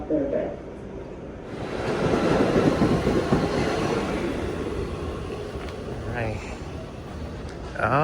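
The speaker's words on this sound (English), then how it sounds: "we just got off of the train." A Staten Island Railway train pulls into Eltingville station, a rising rumble with a rushing, clattering roar that holds steady, with voices faintly in the background.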